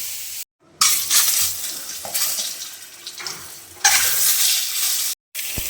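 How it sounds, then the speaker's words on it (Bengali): Eggs frying lightly in a pan hiss with a loud, bright sizzle that swells and fades in waves, cut by two brief silent gaps, with occasional stirring scrapes and no talking. "ডিমগুলো হালকা করে একটু ভেজে নেব"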